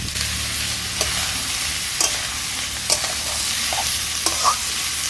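Steamed young jackfruit frying in hot mustard oil with salt, a steady close sizzle broken by several sharp scraping strokes of a spatula stirring the pan.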